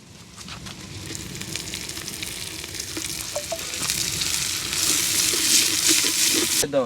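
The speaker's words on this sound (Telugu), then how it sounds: "సన్నగా జరిగిన కొత్తిమీర పుదీనా కూడా ఒకటేసారి వేసేసుకుందాం" Chopped onion, coriander and mint sizzle and fry in hot oil for pot biryani, a steady close crackle that grows louder and denser toward the end, with faint stirring.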